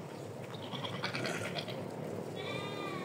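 Several goats bleat close by in a short burst of overlapping calls, followed by a thin, higher-pitched cry.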